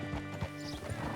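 Horse hooves clip-clop briefly in Red Dead Redemption 2, a few soft, close hoof falls under a low steady background hum.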